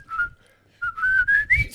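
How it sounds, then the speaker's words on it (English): One person whistling short tonal bursts, a brief note, a pause, then several quick rising notes close to the microphone, with light breathy noise around them. "Do you whistle inward too, or just outward?"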